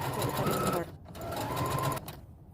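A sewing machine stitches a pillow case, running a steady mechanical whir in two bursts with a brief pause between, while someone speaks over it.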